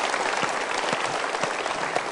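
Studio audience applause on an Indonesian motivational TV talk show, a steady dense wash of clapping filling the whole moment at even loudness with no talk over it.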